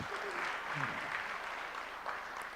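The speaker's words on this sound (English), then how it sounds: "Can we all give a big round of applause to ma'am?" An audience applauds a keynote speaker at an education event, steady, moderately distant clapping filling the room, with a faint voice briefly audible underneath.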